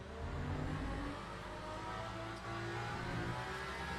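A naturally aspirated V12 race car engine revs in the Le Mans Ultimate racing game, a steady, fairly quiet roar that holds throughout with slight dips in pitch.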